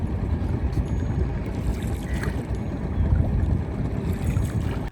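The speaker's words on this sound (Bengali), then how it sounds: "আমাদের ট্রলারটি ছাড়ল জেলেদের নৌকার উদ্দেশ্যে" Fishing trawler moving on a river, a steady low engine drone with water wash and wind buffeting the microphone, close and continuous.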